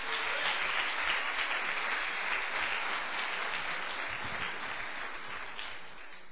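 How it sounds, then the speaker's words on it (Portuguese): A congregation gives a round of applause for Jesus, a dense, steady wash of many hands clapping that holds evenly for several seconds and fades only slightly at the close. "Então já passou da hora de você dar uma salva de palmas para o Senhor Jesus."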